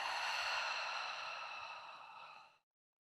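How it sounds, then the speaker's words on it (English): A long, breathy exhale through the mouth during an outdoor yoga session in Washington. It is a single soft sigh that fades out after about two and a half seconds, with no voices. "Open your mouth, exhale."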